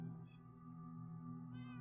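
Cats in the video game Minecraft meow softly, with two short mews heard alone against a faint, steady background.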